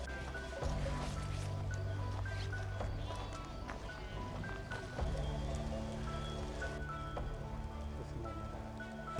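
Heavy rain falls outdoors during a storm in open pasture with a flock of sheep, a steady hiss of drops with patters and drips, joined by low rumbling noise and occasional sheep calls.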